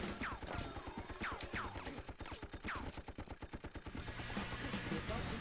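Rapid bursts of gunfire in the PS1 shooter Apocalypse, fast repeated shots in a steady rattling rhythm with some ricochet-like whines, fairly faint and with no talk over it.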